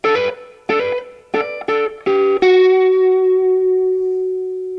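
A distorted electric guitar plays a few quick picked notes, then lands on a long sustained note that rings out with slight wavering and effects, no voices.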